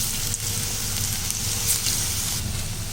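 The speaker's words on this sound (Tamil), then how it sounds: "இப்போ நம்ம ஒரு கடாயில் நல்லா எண்ணெய் ஊற்றி காய வச்சுருக்கோம். இதிலே இந்த வடையெல்லாம் ஒன்று ஒன்றா போட்டுக்கலாம்." Masala vadai deep-frying in hot oil in a kadai, a steady, loud, close sizzle and bubbling that holds throughout with no talk.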